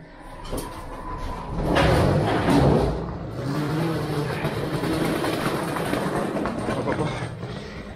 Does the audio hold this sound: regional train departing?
yes